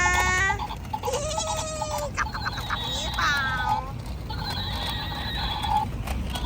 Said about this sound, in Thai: ม้าลายมันร้องยังไงนะ